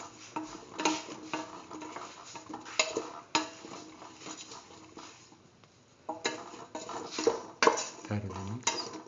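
A spoon scrapes and clinks against a pot while a split mung bean and eggplant stew is stirred, with irregular metallic knocks and scraping at moderate, close level, pausing midway.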